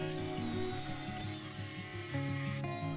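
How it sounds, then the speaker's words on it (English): A router fitted with a 1/8 inch round-over bit trims the edges of an end grain cutting board, a loud steady high-pitched whine with shifting tones as the cut progresses, close up and alone. "I'm rounding the edges here with a 1/8 inch round over router bit."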